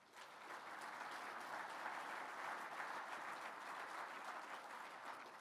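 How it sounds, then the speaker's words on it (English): Lunch guests at a Scouting event applaud the planning committee with a dense, even wash of clapping from a large room, heard at a modest distance and holding steady throughout. "let's give the planning committee members and all of those who contributed a round of applause"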